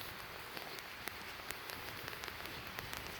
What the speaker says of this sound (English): Try to get out of this rain here.